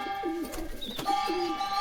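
Andhra/Madras pigeon chicks give short low coos close up, a few wavering calls with a steady tonal hum running behind them.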